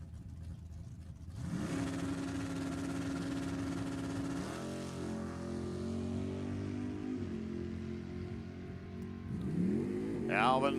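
Drag racing cars in a Pro ET final round at an NHRA Summit Racing Series Division 7 event launch with a loud engine roar that sustains and fades, followed by another rising engine at the end, with a voice talking over it.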